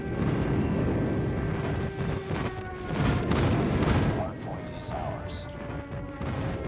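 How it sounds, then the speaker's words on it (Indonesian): A friendly airstrike in a first-person shooter game brings heavy crashing explosions and booming impacts that roll and overlap for several seconds. Players chatter over the blasts. "Friendly airstrike incoming."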